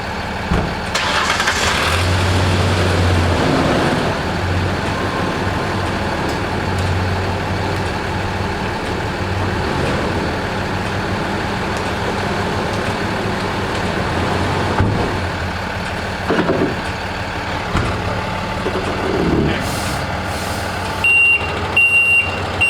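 A truck moving around a DIY lawn installation site, its engine rumbling steadily throughout with periodic reversing beeps sounding over the drone, plus a few clanks near the end.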